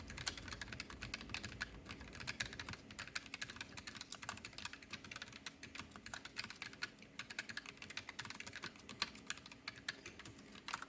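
Rapid, continuous clacking of Keychron K3 brown-switch mechanical keyboard keys typed forcefully, close up, with a steady dense rhythm and no voices.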